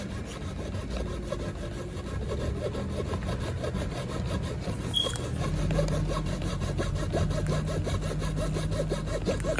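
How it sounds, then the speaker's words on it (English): A Japanese hand saw cuts through scrap wood with steady, rhythmic back-and-forth strokes, a close, rasping sawing sound that keeps an even pace throughout. "Japanese saw there's something really therapeutic about this."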